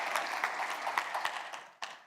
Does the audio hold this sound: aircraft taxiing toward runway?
no